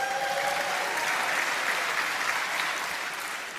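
An audience breaks into applause during a speech, a steady wash of many hands clapping at moderate loudness that holds evenly and fades slightly near the end.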